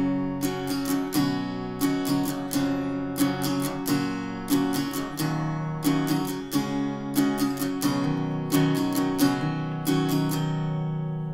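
Acoustic guitar strumming the verse of a song, a steady rhythmic pattern of chords with bright repeated strums, played alone and up close.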